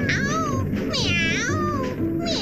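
Cartoon cat meows in a Cantonese-dubbed Doraemon episode, several loud close drawn-out cries in quick succession with rising and falling pitch, sounding like a voice imitating a cat.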